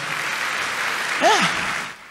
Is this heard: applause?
yes